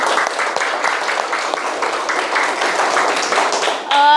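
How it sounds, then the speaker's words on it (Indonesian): Indonesian middle school students in a classroom clap together in a dense, steady burst of applause that fills the room, then breaks off at the end. "beri tepuk tangan untuk kita semua"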